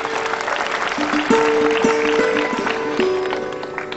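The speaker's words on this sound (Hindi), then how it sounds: "तालियां" An audience at a girls' school science block inauguration in Chamba claps in a sustained round of applause, heard alongside steady sustained tones in the background.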